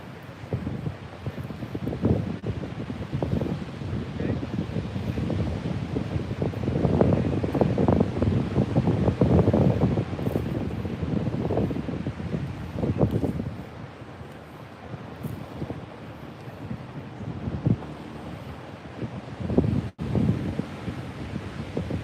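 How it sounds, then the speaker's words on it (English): Wind gusting across a beach at low tide, buffeting the microphone with a rough continuous rumble that swells and eases over about twenty seconds, with no voices. "You guys hearing me okay with the wind?"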